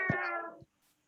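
A single cat meow, close and clear, a drawn-out tonal cry lasting about half a second before silence.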